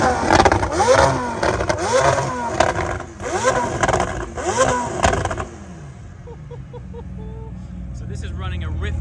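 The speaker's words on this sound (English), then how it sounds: "we're going to ask him to give us a rev" A near-900-horsepower McLaren Senna with a Rift exhaust system is revved hard several times in quick succession, loud and close, before the engine drops away and a voice speaks faintly over the quiet.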